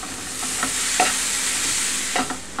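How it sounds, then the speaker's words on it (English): Chili with beef crumbles stirred and scraped across the bottom of a pan, a steady close sizzle with several distinct scraping strokes, no voices. "we want to scrape the bottom of the pan"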